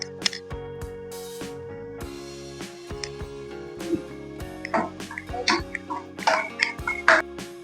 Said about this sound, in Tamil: இப்போ நம்ம கொஞ்சமாக தண்ணி சேர்த்துக்கலாம்.